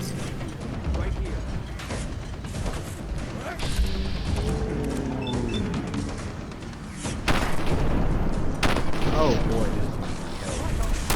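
Video game shootout with bursts of gunfire and clattering mechanical weapon sounds, loud and close, while someone talks briefly over the action.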